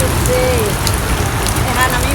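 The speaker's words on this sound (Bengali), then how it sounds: "বৃষ্টি বন্ধুরা কিছু শোনা" Steady, dense hiss of heavy rain pouring down, continuous throughout, with a faint thin tone drifting above it.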